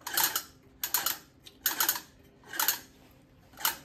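Rhythmic whirring sweeps from the turning cylinder blade of a Ransomes Ajax lawn mower, five soft swishing bursts at an even pace, close and fairly quiet.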